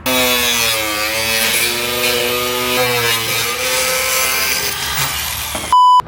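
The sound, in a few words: cutting out the middle piece of a car bumper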